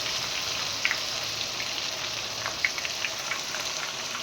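Paneer deep frying in hot oil for chilli paneer, a dense, continuous close sizzle with scattered pops and crackles, steady throughout and without speech.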